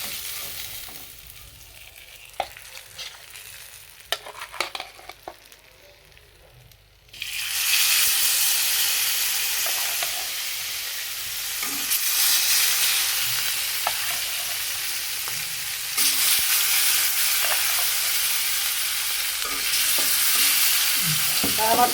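A rohu fish head goes into hot oil: quiet handling at first, then a sudden loud, steady sizzle that runs on, briefly dips and surges again with faint stirring.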